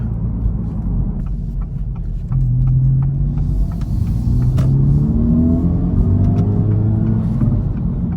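A 400 WHP 2024 Acura Integra Type S with a Hondata tune drones loudly from inside while driving, a steady engine rumble rising in pitch as it gathers speed.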